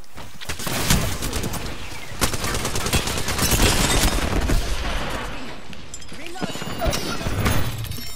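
Rapid bursts of automatic gunfire from an Apex Legends battle crackle one after another, dense and close, with voices talking throughout the fighting.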